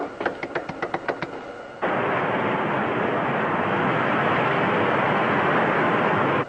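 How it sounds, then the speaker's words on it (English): A starboard rocket firing as a radio-drama sound effect: a quick row of rhythmic knocks gives way to a loud, steady rushing roar that holds for several seconds. "Prepare to fire starboard rocket."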